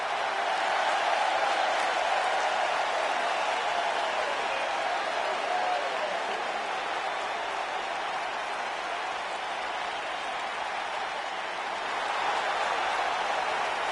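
A crowd applauding and cheering in the WWE 2K19 wrestling video game, a steady, dense wash of clapping and crowd noise that holds at an even level throughout.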